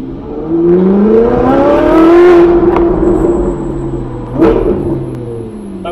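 A powerful Ferrari engine revs up loudly through its exhaust, rising in pitch and then settling, followed by a second sharp rev nearby.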